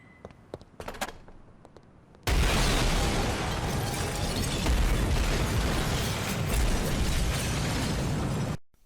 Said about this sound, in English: Dropping her off, we set off the bomb and fake her death.